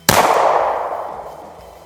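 A single loud, sharp rifle shot firing a 180 grain full metal jacket round, with a sudden crack followed by a long ringing decay that fades over nearly two seconds outdoors.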